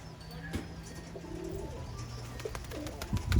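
Birmingham Roller pigeons cooing close by, soft low throaty coos rising and falling over a steady outdoor background, with a few brief louder bursts near the end.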